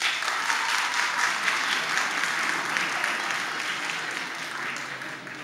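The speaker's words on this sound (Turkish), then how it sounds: "Bir daha alkışlayın bakayım kaç kişisiniz?" Studio audience applauding steadily and loudly for several seconds in a television show studio, a dense, even wash of clapping with no voices over it.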